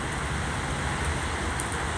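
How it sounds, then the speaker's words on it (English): Steady rain falls outdoors on a cloudy, rainy day, a continuous even hiss of drops with no voices. "we got a rainy day going on today."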